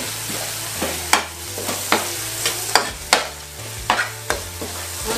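Pandan, bay, turmeric and lime leaves go into a pan with galangal and lemongrass, frying under a constant sizzle while a utensil scrapes and taps in rhythm, roughly a stroke every half second, up close.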